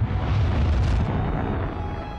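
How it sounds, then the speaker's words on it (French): A supernova explosion effect renders a deep, loud rumbling roar that swells and then slowly fades, with a sustained boom filling the low end and no voices. "Si vous vous trouvez sur une planète proche d'une supernova, cette explosion peut vous gâcher votre journée"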